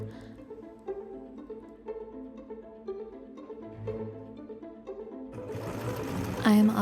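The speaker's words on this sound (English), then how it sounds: "so it's a rarity that the audio will actually be just of me sewing" A sewing machine stitches a wedding dress mockup, its motor running in a steady, close, rhythmic whir. Near the end a sudden louder, rougher noise takes over.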